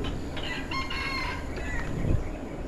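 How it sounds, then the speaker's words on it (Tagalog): A rooster crows from a distance on Pulau Ubin during a mountain-bike tour, a faint call rising over steady outdoor background noise. "Manok, magtitilaok na."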